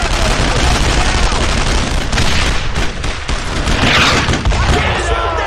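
Sustained suppressing gunfire in a retro tactical shooter, dense rattling shots and booms running continuously under shouted voices, loud and close throughout.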